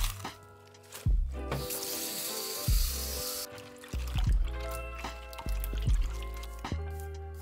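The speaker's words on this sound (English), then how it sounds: "We're gonna put them in a bowl and just give them a good rinse in water." Bok choy is rinsed by hand in a bowl of water, with intermittent splashes, drips and trickles in close, quiet bursts separated by brief pauses.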